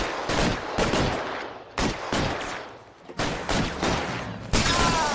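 Gunfire from the video game L.A. Noire: several loud bursts of shots in quick succession with short gaps between volleys, close and dominant throughout.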